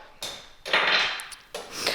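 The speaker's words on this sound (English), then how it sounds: "Are you hammering them out?" A child taps toy pieces with a toy hammer, producing three close, bright clinking strikes with metallic ringing in quick succession, with no voices.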